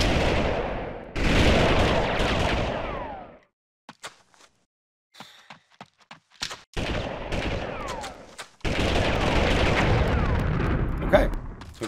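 Bursts of gunfire and explosions from the PlayStation game Army Men 3D, loud dense volleys with a gap of scattered single shots in the middle, then heavy firing again.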